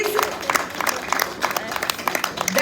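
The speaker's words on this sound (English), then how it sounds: "Give them a big round of applause, please." Crowd applause at Caymanas Park racetrack in Jamaica, a short burst of scattered clapping from a moderate crowd, fairly close and steady throughout.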